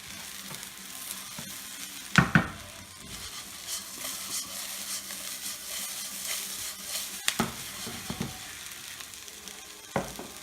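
Rice for a seafood paella fries in a pan with a steady, busy sizzle, broken by a few sharp clinks and scrapes from stirring.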